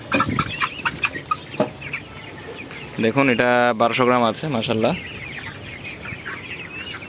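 Chickens, 26 days old, cluck close by in short bursts while being weighed, with a louder run of squawking calls midway, while a person speaks over them.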